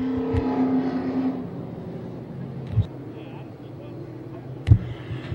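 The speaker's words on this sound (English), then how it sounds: "we've still got one car coming down here off of turn number 4" A pro stock dirt race car comes off turn four on a dirt track, a moderate engine drone fading into distant rumble, with a few sharp knocks, while an announcer talks over it.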